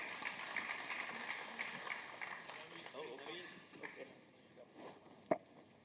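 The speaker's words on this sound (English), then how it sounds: "So, a round of applause again." A modest round of applause from an audience at a CXO round-table event, fairly soft and thinning out, with voices and movement noise mixed in and a sharp knock near the end.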